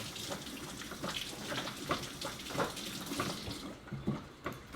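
Water runs from a tap while sugar scrub is rinsed off hands, a soft, steady, fairly quiet splashing with small irregular bursts as the hands move under the stream.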